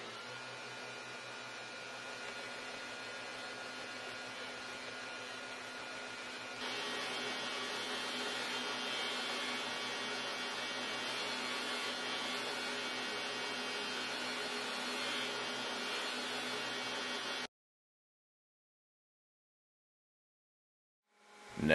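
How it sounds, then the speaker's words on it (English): A belt grinder runs steadily as the cutting edges of a handmade mini hatchet are cleaned up on fine Trizac belts, a continuous broadband whir that swells louder partway through, then cuts off into silence before a brief final noise. "Now it's back to the grinder to clean up the cutting edges."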